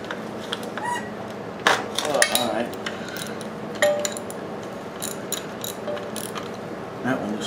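A socket wrench ratchets on long bolts of a motorized scooter being built, giving close, repeated clicking runs with sharper metallic knocks in between, steady and fairly quiet.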